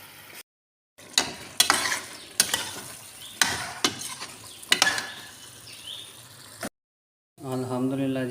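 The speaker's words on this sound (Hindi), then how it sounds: "अच्छी तरह आलू और पालक को जो है भून लेंगे" Potatoes and spinach fry in a pan for aloo palak, with a low sizzle under repeated scraping, clicking spoon strokes, then a short pause and a brief voice at the end.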